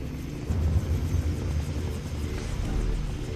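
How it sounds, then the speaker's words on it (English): Helicopter in the video game Far Cry 3, a steady loud rotor and engine rumble that holds without pause throughout, with no voices over it. "Riley, let's get to the chopper. We have to go now"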